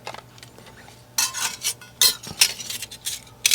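Small stainless steel stove pieces from a pocket stove clink and clatter in short metallic bursts, a few close taps and rattles spaced over a few seconds with quiet gaps between.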